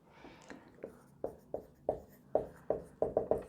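Chalk or marker strokes on a classroom board as a literature teacher writes two sentences, a run of about a dozen short taps and scrapes speeding up toward the end, close and clear with no talking.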